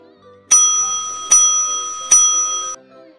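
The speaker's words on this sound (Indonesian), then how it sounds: "Tanda istirahat pun berbunyi." A school recess bell rings out three loud, clear metallic strikes at an even pace, each leaving a bright sustained ring that stops abruptly, alone with no talking.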